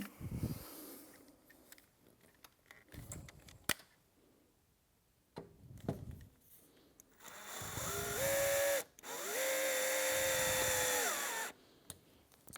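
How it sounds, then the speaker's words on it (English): A drill on a very low, slow setting drives a screw into the wood of an Allegro 2 Reformer: scattered handling knocks and clicks, then two sustained, moderately loud motor whirs, each a couple of seconds long with a short pause between. "I'm going to turn my drill onto a very low setting, so it is not only slow, but it's not going to over torque the screw"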